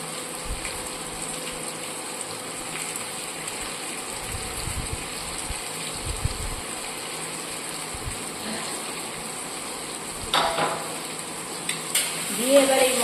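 Spice mix of green chillies, ground coriander, cumin, a little turmeric and sugar frying in a pan, a steady low sizzle with faint clinks of stirring and a louder scrape near the end.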